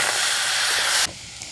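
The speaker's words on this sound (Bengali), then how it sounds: "ফ্রাইং প্যানে দিয়ে দিচ্ছি জল" Water hits a hot frying pan while making aloo kulcha, a loud close burst of steam hiss that cuts off sharply after about a second, leaving quieter sizzling.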